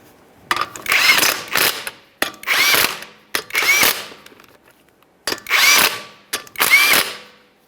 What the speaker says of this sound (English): Start on all 5 of our 19mm lug nuts.